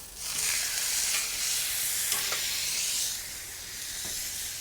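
A frozen steak sears on a hot flat-top griddle, putting out a loud, steady sizzle and hiss that swells and eases a little as it cooks.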